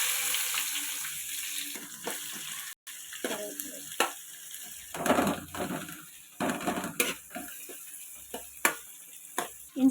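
Onions frying in a pan with fennel seeds, cinnamon and cloves for a cauliflower and potato gravy: a steady sizzle and crackle, broken by scattered clinks and scrapes of stirring, with no talking.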